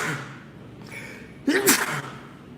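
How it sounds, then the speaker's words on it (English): A man lets out a single sharp sneeze, a sudden burst with a brief breathy intake before it, then quiet. "Oh, I gotta sneeze."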